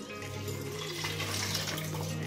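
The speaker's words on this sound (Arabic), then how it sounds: "وغادي نضيفو الماء المقدار ديال الماء" Water poured into a rice and chicken dish, a faint, steady splashing trickle heard alone at low volume.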